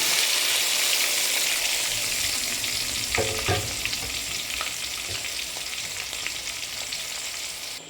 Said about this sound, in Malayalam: ഇനി ഈ എണ്ണയിലേക്ക് നമ്മൾ അരിഞ്ഞു വെച്ചിരിക്കുന്ന സവോള ഇട്ട് കൊടുക്കാം